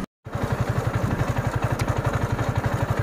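Yamaha R15 motorcycle riding on a road with a low fuel tank, its engine a steady, loud, close rhythmic thrum of regular pulses after a brief gap at the start, with no talking.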